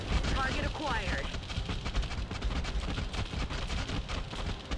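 Reaction-fire gunshots in the video game XCOM Long War, a dense burst of rapid game gunfire with overlapping impacts and electronic effects, loud and continuous throughout, with speech mixed in.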